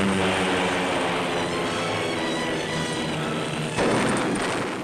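Aircraft engines roar loud and steady as WWII Allied fighter planes take off, a dense continuous drone with a brief surge near the end and no voices.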